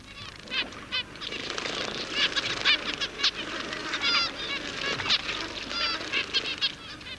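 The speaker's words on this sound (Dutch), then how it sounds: "In de plassen bij de overloop van de tanks baden zebravinken." A flock of zebra finches bathing in pools by water tanks in the Australian outback gives a busy chatter of short, nasal calls, close and lively, with faint rustling underneath.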